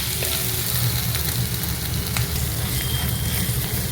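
Onions or aromatics sauté in hot oil in a pan for Kerala-style black chickpea kadala curry, giving a steady, close crackling sizzle with occasional sharper pops and faint stirring scrapes, no voices.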